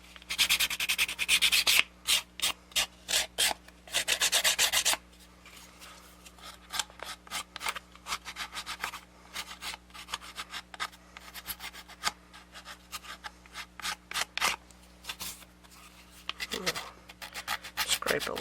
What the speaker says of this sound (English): Scrape a little bit more off of that corner.